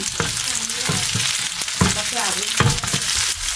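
Pork sizzling as it fries in oil until golden brown, a dense, steady crackle with irregular louder spits and the clatter of stirring, close and continuous with no talking.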